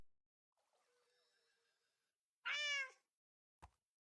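A Minecraft cat gives one short, clear, close meow after a faint tonal game sound, followed by a brief sharp click in otherwise quiet surroundings.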